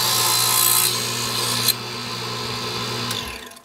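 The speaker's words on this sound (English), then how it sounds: "So we're just going to cut off a piece." Power tool cutting a piece of wood for model ship grating, a loud continuous whining buzz that steps down partway through and winds off at the end, with no talk.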